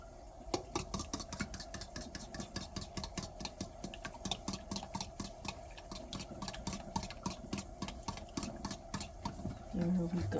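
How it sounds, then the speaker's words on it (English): An egg whisked briskly in a bowl gives a fast, steady run of light metallic clicks and taps over about ten seconds, close and fairly quiet, with a faint hum underneath. "And you whisk it from the wrist."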